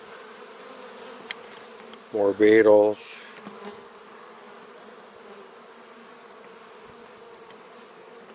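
Honey bees hum steadily and thickly inside an open hive while it is checked during a colony transfer, the buzzing continuous throughout, with a brief voice speaking close by partway through.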